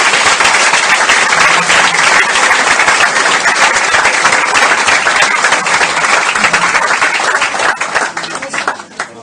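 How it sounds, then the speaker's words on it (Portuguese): Loud, sustained audience clapping at a church event, a dense roar of many hands continuing without break before thinning slightly at the very end. "pudéssemos mais uma vez agradecer através das nossas palmas"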